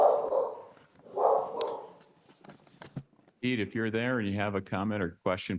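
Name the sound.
dogs barking in the background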